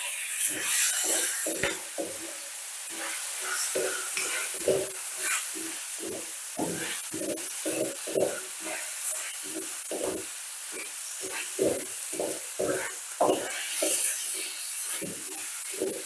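Noodles stir-fried with Chinese cabbage in a large pan for a Thai recipe, rhythmic scraping and tossing strokes repeating steadily under a constant hiss of frying, close and fairly loud.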